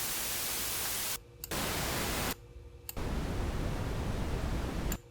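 Steady broadband hiss from a synthesizer noise generator plays in successive blocks of different noise colors separated by short silences, each block shifting in tonal color from deeper rumble to brighter hiss.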